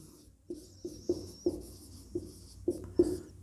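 Writing out a vector expression in a Class 12 maths lesson: about seven short, evenly spaced strokes tap against the writing surface, close and clear, with no talk over them.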